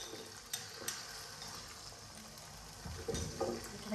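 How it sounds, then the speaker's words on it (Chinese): Eggs frying in a wok, a soft, low sizzle with a few clacks of utensils against the pan and a louder burst of frying near the end. "鸡蛋锅里倒"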